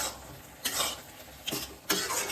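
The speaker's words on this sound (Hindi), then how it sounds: "मीडियम आंच में इसको अब हमें भूनना है" Mashed eggplant bharta being roasted in a pan, with three short scraping stirs over a faint, soft sizzle.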